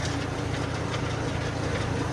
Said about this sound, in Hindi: तब तक मैं ट्रैक्टर चला रहा हूँ भाई